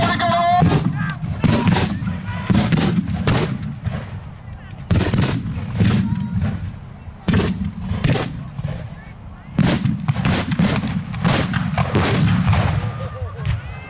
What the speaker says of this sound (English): The fuel dump's going to go off.